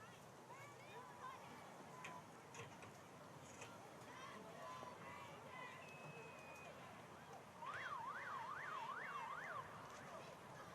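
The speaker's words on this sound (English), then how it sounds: "We heard the siren." A wailing siren rises and falls in a rapid up-and-down pattern over a noisy football stadium crowd at kickoff, loud and sustained for a few seconds near the end.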